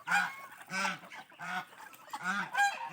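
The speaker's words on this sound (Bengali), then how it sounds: "আর রাজহাঁসও দেখি চাল খাচ্ছে" Several geese honk loudly in a rhythmic series of nasal calls while they eat rice, close by with no talking.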